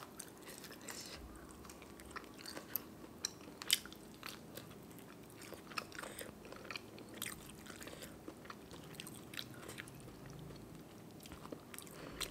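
Someone eats spicy som tam papaya salad with grilled chicken, with steady close crunchy bites and chewing, fairly quiet and continuous with occasional sharper crunches and no talking.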